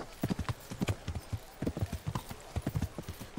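Horse hooves clip-clop in a steady galloping rhythm while riding in the medieval video game Kingdom Come Deliverance, close and clear with no talk over them.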